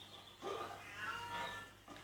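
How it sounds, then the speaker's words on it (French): A house cat meows several times over about two seconds, drawn-out cries rising and falling at moderate loudness, heard indoors behind faint game audio. "juste pour le temps de calmer mon chat"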